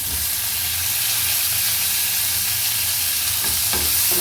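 Tomato and other ingredients sautéing in a pan for a pirandai kara kuzhambu, with steady sizzling and stirring scrapes close by, continuous throughout with a few sharper stirring clicks near the end.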